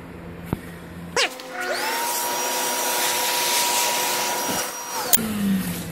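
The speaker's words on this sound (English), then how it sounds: "Now when I vacuum it out" A vacuum cleaner starts with a click and runs steadily with a loud, rising whine while cleaning out the hull of a home-built Core Sound 15 boat, then shuts off abruptly.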